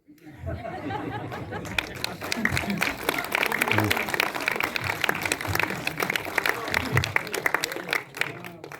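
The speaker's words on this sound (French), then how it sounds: "on va aussi applaudir particulièrement Philippe" An audience at a festival of films on ancestral traditions and shamanic spirituality applauds Philippe, steady clapping filling most of the stretch with crowd chatter and voices mixed underneath.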